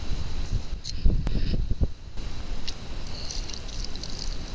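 A mountain creek runs steadily beside a campsite in the Pennsylvania mountains, a continuous close rushing wash of water with a brief louder surge early on.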